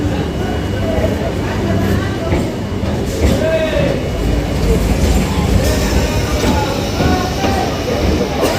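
A crowded local train from Namkhana pulls in at a busy Kolkata station platform, with a loud continuous rumble, wheel squeal and clatter close by, while people chatter faintly in the background.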